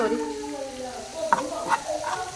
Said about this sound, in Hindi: मैदे को हम 1 मिनट तक भूनेंगे।